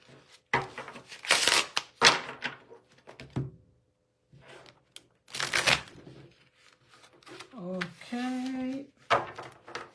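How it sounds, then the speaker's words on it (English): Tarot cards are shuffled in bursts, crisp riffling and card slaps in short clusters with quiet gaps, close and fairly loud, with a short stretch of talking or voice near the end. "I'm going to draw cards from the tarots."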